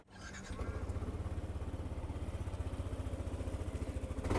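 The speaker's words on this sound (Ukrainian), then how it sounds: "Давайте краще запустимо цей скутер." A Yamaha NMAX scooter engine starts and settles into a quick, even putter, the rhythmic pulses close and moderately loud before the revs rise slightly at the end.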